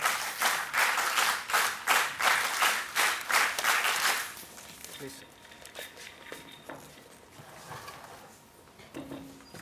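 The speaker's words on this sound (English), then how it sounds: "So, welcome by giving NCC claps." An audience at a national defense conference of the National Cadet Corps gives rhythmic NCC claps, a loud regular beat of about ten synchronized claps that stops abruptly, followed by room noise and faint shuffling.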